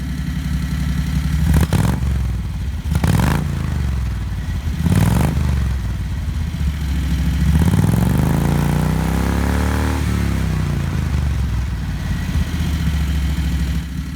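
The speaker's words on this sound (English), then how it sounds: "That tones the exhaust down nicely" A 670cc Predator engine in a Renault idles through an aftermarket muffler with a throaty exhaust burble, punctuated by a few quick revs and one longer rise and fall in pitch.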